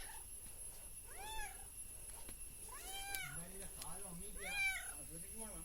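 A cat wandering among garden plants meows three times, each call a rising and falling wail spaced about two seconds apart, fairly faint with quiet outdoor background.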